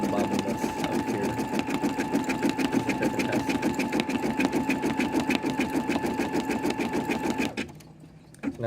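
An embroidery machine stitches letters with a steady, fast mechanical rattle that runs loud and close without a break, then stops abruptly near the end, leaving quiet room noise.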